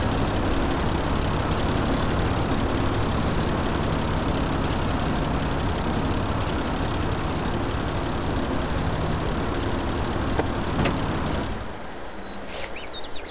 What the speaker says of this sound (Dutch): ik denk dat de motor even wat moet opwarmen